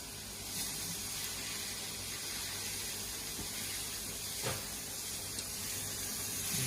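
Onions and leek sweating in a pan for leek and potato soup, a steady soft sizzle and hiss that runs unbroken throughout, faint and even, with a small clink near the end.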